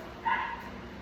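A single short, high yip from a seven-week-old puppy, faint and brief against quiet room noise.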